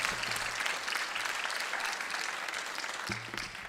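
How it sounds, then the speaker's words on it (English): Steady, fairly faint applause from a seated audience at an annual school concert, a continuous wash of clapping with no voices. "Let's give a round of applause for our building administration and our central office administrators."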